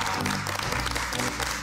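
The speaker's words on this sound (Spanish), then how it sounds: "Un aplauso para él." Dense applause from a studio audience on a cooking competition set, welcoming a renowned pastry chef, steady and fairly loud throughout with some voices mixed in.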